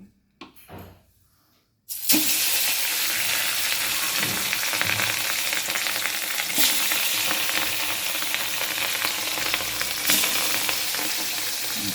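Pieces of rohu fish frying in hot oil, a loud, steady sizzle that starts abruptly after a short quiet moment and runs continuously with crackling spatters.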